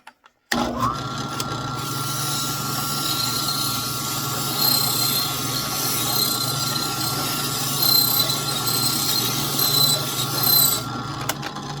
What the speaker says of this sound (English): I put the dowel in the drill press. We're just going to turn it on and just kind of sand it